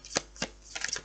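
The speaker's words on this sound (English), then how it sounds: "Last shuffle round." A tarot card deck is shuffled in a few quick, crisp bursts of flicking cards, close and fairly quiet, with no voices over it.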